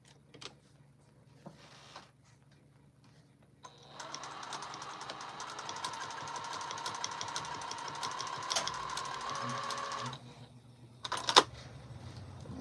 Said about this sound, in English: start my stitching here on an angle